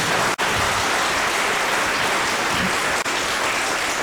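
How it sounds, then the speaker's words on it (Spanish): Dense, loud audience applause at a Catholic priest's workshop on the origin of the Bible, steady clapping from a large crowd with two brief cuts in the sound. "Un aplauso para la Iglesia Católica que nos hizo la Biblia."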